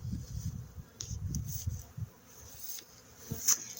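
Honey bees buzz around a flattened, damaged hive, a low fluctuating drone of many bees with individual insects flying close past the listener, no talking.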